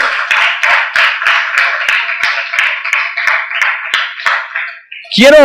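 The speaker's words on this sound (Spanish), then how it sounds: "Dele palmas a Jesús si usted lo cree" Congregation clapping in a church service, a steady rhythmic series of claps under a sustained tonal backing, ending with a voice cutting in at the close.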